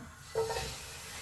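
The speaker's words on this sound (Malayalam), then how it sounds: "ഞാനിത് അങ്ങനെ തന്നെ എടുത്ത് ചട്ടിക്കകത്തേക്ക് ഇടുവാണ്" Vegetables with water are tipped into a frying pan, setting off a short, soft sizzle that fades into a low steady hiss.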